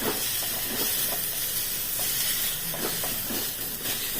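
Green jackfruit pieces frying and being mashed in a pan, giving a steady loud sizzle and hiss with soft scraping knocks from a utensil scattered throughout, no voices.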